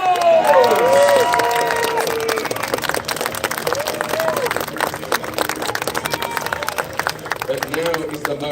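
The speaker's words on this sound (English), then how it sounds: "Give him a round of applause!" An audience applauds for a winning marksman at a Royal Armouries horse show, loud clapping and cheering filling the space while an announcer's voice carries over it.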